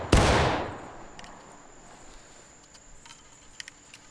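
Musket volley in War of Rights: a single loud, close, massed crack of rifles firing together, then a long echoing decay, with faint scattered shots and clicks afterward.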